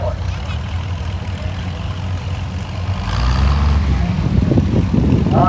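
An Oliver tractor engine chugs in a parade at the National Oliver Show in Boonville, Missouri, its heavy low idle swelling louder partway through as the machine moves closer, with faint crowd sounds around.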